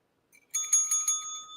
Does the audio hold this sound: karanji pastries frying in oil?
no